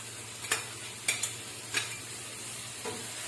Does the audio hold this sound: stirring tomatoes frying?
yes